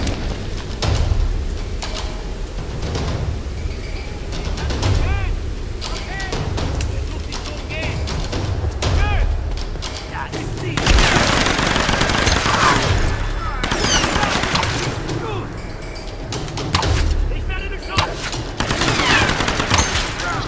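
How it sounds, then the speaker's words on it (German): Enemy gunfire in the Tomb Raider video game, with sustained bursts of rapid automatic shots and heavy volleys that are loud and dense throughout, and a voice speaks over them at times. "Ja, da könnt ihr noch lange schießen."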